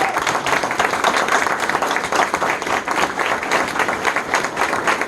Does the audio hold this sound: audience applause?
yes